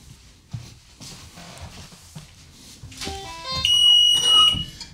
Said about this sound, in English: The emergency door alarm does work.